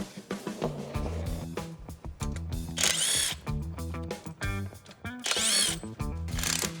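A power tool whirs in bursts while bolting a Flaming River part into an OBS Chevy truck chassis, loud and near, with several spin-ups and pauses between runs of clattering shop noise.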